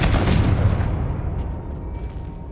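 A Confringo explosive spell blast in the game Hogwarts Legacy, one loud booming burst that rumbles and fades away over about two seconds.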